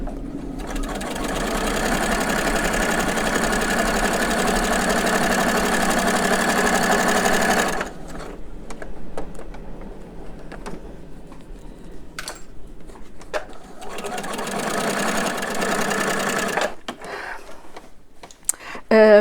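Sewing machine stitching perpendicular grid lines for quilting, with a fast, even mechanical whir in two long runs separated by a quieter stretch of clicks and handling.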